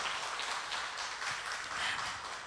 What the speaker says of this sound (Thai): ขอเสียงปรบมือให้กับวิทยากรของเราอีกครั้งหนึ่งค่ะ